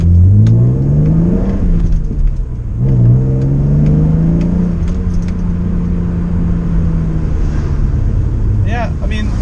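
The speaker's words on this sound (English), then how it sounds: "this car is not particularly fast, but it's just the sound it makes" A BMW E39 528i's engine revs up under acceleration, its tone climbing, dipping briefly, then rising again into a sustained, loud, smooth drone, with faint voices in the background.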